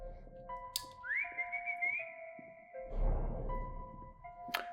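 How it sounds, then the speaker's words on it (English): Whistling in the horror video game Lost in Vivo: a clear melodic whistled phrase with sustained and rising notes, close and alone over quiet ambience, with a few brief clicks and a short noisy swell midway. "We whistle, yet no one responds."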